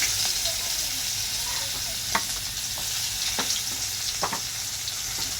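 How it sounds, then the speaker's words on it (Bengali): Onions crackle and sizzle in a wok while a spatula scrapes and taps the pan every second or so, steady close frying throughout. "পেঁয়াজগুলো দিয়ে একটু নেড়ে ভাজা ভাজা করে নেব পেঁয়াজগুলো।"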